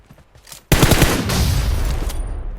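Rapid, loud automatic gunfire erupts in PUBG Mobile, a sustained burst of close shots that begins abruptly after a quiet moment and continues to the end.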